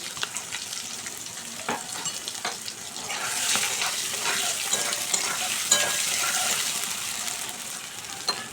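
Potato pieces frying in a pan with turmeric powder, a brisk sizzle that swells into a dense, hissing fry partway through, with scattered stirring scrapes.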